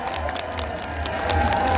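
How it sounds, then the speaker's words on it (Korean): A crowd at a Korean outdoor singing event in Geochang applauding the county governor, a rising wash of clapping and cheering building toward the end. "군수님께 다시 한번 큰 박수 한번 부탁드립니다"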